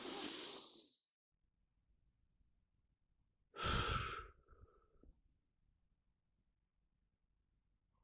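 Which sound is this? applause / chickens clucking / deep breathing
deep breathing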